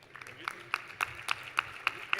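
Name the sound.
audience applause welcoming a panelist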